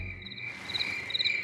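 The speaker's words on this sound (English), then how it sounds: "Crickets." Crickets chirp in a soft, steady trill, with a few slightly louder pulses, playing alone as a gentle ambient sound from a smart wake-up sun lamp.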